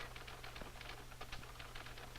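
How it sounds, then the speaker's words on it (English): A 1950s secretary transcribing on a typewriter: rapid, irregular keystrokes clatter steadily at a distance, faint under a low constant hum. "My typing speed is good."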